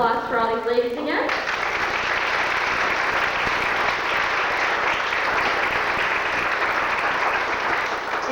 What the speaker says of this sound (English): I would like everybody to give a round of applause for all these ladies again.